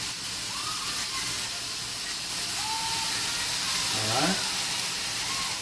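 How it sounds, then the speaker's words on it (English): Vegetables for an egg roll filling stir-fry over high heat with soy sauce, a constant close sizzling hiss with a brief stirring scrape near the end and a single word spoken. "With high heat and constantly stirring and frying."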